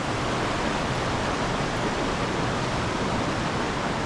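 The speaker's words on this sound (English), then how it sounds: "If you can even hear me at this point over the roaring Amnicon River right here." The Amnicon River rapids in a northern Wisconsin park rush loudly and continuously, a broad, even roar of churning water close by with no let-up.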